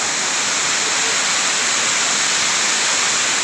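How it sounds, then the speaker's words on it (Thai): Letongkhu waterfall in Tak province pours in a loud, steady broadband rush of falling water heard close and unbroken, with no voices over it. "เลตองคุจังหวัด ตากเนาะ คือ น้ำตกเลตองคุนะครับ"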